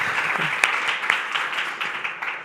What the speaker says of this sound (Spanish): el primer aplauso para toda la gente que escribe y se dedica a esto